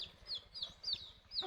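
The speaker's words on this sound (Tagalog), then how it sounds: "Ito pa yung ating isang alagang manok, sisiw, nakikigulo rin." A pet chick peeps in quick, high, repeated chirps, about five or six short calls in a row, close and fairly faint.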